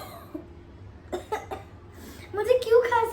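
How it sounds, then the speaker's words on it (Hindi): A few short coughs from a girl trying to force a sneeze during a playful sneezing challenge, close and fairly loud, followed by talking and laughter. "खांसी आ रही है"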